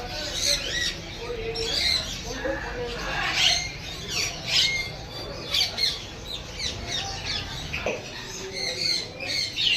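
Parrots and other caged birds squawk and chirp at a crowded bird market in Empress Market, Karachi: a dense, continuous chorus of shrill calls fairly close by, with people's voices and market bustle mixed in.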